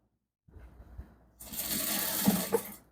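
Sewing machine top-stitching a trouser pocket, a few slow hand-turned stitches and then a steady fast whirring run of stitching, close and fairly quiet.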